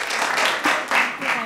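A studio audience breaks into sustained applause to welcome actress Gouthami onto the set of a Malayalam TV talk show; the clapping swells in broad waves over a short stretch, with a voice heard alongside it.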